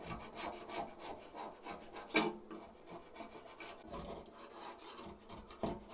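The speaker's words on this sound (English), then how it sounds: "Just scraping off this old putty that was on here." A scraper rasps old putty off the rim of a used sink in quick, close, repeated scratching strokes, with one sharper scrape partway through and no talking.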